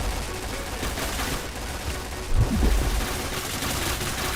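Gunfire in the first-person shooter game Point Blank crackles through a dense, noisy game mix, with a heavier burst of shots around the middle; game sounds fill the whole stretch.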